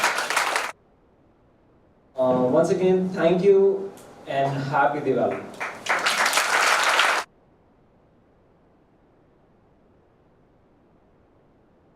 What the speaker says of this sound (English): Special round of applause for them.